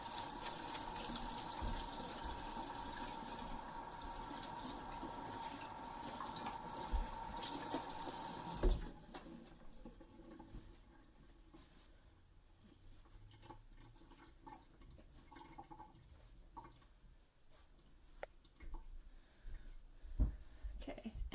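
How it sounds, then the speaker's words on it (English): Hands are washed under a running kitchen tap. A steady, fairly loud stream of water splashes for about nine seconds, then stops, leaving faint handling clatter and small drips. "I'm just going to wash them again"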